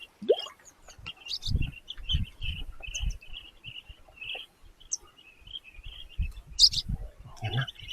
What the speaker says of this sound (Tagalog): Tingnan natin yung mga ibon.